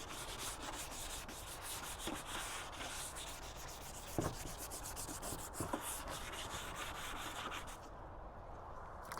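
A painted part is wet sanded by hand, a quiet continuous scratchy rubbing with a few brief louder scrapes, fading slightly near the end.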